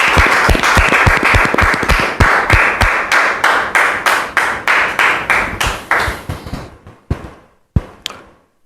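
Audience in a church setting clapping in unison, loud sharp rhythmic claps at a steady beat that continue for several seconds, then slow to a few isolated final claps.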